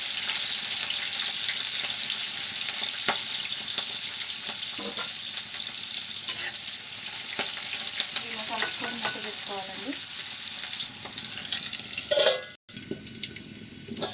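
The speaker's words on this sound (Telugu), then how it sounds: "కట్ చేసి పెట్టుకున్న పచ్చిమిర్చి వేసుకోవాలి అలాగే కట్ చేసి పెట్టుకున్న ఉల్లిగడ్డ ముక్కలు" Green chillies and chopped onions frying in a pan for egg rice, with a steady close hiss and sizzle under occasional stirring scrapes, followed by a brief clatter near the end.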